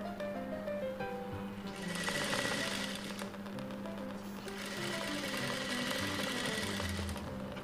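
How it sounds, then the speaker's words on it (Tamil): A sewing machine runs steadily, stitching along the edge of a blouse with a continuous close rattling hum that swells slightly in two passes. "நல்லா அமுத்தி மேலே கரெக்டாக அது எட்ஜிலே ஒரு தையல் விட்டுருங்க"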